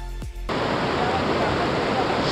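Water rushes steadily downhill at the Kiwai artificial waterfall near Shogran on the Karakoram Highway in Pakistan, a loud, dense, continuous roar with a brief low thump at the start.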